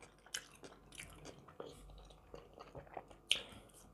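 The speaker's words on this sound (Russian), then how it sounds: "Жуем, жуем." Grated carrot salad with mayonnaise being chewed close up, soft wet crunching and squishy bites in an irregular rhythm, fairly quiet with a few sharper crunches.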